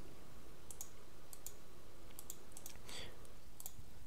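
Fingers type on a computer keyboard at a Windows PC, a handful of light, quick key clicks in small clusters over a faint steady background hiss, close and quiet.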